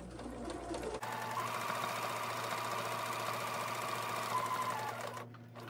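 A sewing machine runs continuously around a box seam on a zippered pouch, a close, steady mechanical hum with rapid needle chatter that stops abruptly near the end.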